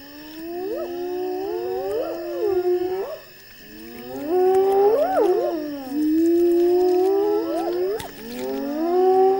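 Hyenas gather at a lion's fresh kill on the Zambezi floodplain and raise a wailing chorus. Several long rising and falling whoops overlap, loud and near, with a brief lull midway before the calls swell again.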